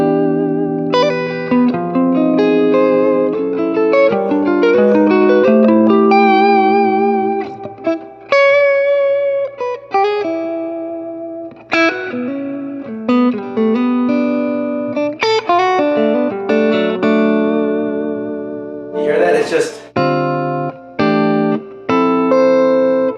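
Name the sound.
electric guitar through Swart AST Pro amplifier with heavy reverb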